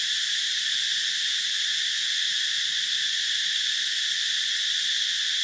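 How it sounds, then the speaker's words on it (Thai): Cicadas buzz in one continuous, even high-pitched drone across the night, steady throughout with no other sounds breaking through. "นี่เสียงแซว"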